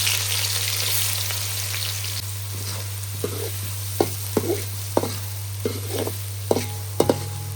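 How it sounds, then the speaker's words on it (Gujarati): Onion fries in moderately heated oil with a soft, steady sizzle, joined by a series of sharp clinks and taps from stirring or utensils in the second half, over a low constant hum. "થોડું થોડું તેલ ગરમ થાય તો આપણે ડુંગળી નાખી દેવાનું છે"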